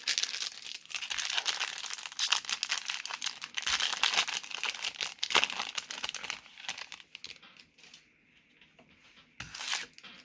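Stadium Club Chrome trading card packs are torn open and handled nearby, a dense crinkling of foil wrappers and shuffling cards that fades down near the end before a last rustle.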